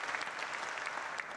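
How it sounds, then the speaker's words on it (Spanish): Brief applause from an audience, a steady patter of many hands clapping at moderate distance, heard alone without talk over it. "Allá me aplaude María América del fondo"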